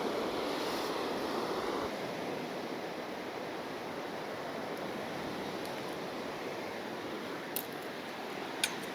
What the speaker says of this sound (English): there is quite a strong crosswind